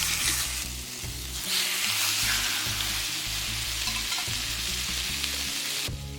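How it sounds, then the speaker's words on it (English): Steak searing in a hot pan with olive oil, giving a loud, continuous close-up sizzle with crackling spatter that holds steady throughout, with no voices over it. "As soon as your steak hits the pan, you should hear such loud sizzle"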